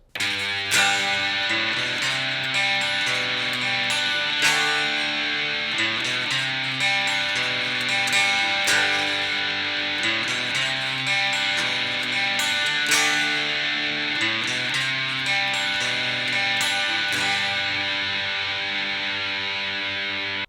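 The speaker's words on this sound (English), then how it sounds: "So altogether, the chorus sounds like this." Overdriven electric guitar runs through the full chorus of a song, with steady rhythmic chord strumming and little walk-up note runs, loud and near for about twenty seconds without speech.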